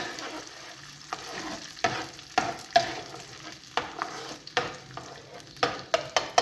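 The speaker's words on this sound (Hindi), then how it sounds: "अब हमारे पास जो बटर बाकी बचा हुआ था थोड़ा सा, वो हम इसके अंदर शामिल कर देते हैं। इसको हिला लेंगे थोड़ा सा।" Butter stirred into melted sugar in a cooking pan, with a spoon scraping in irregular strokes and sharp clacks every second or so over a soft, continuous sizzle.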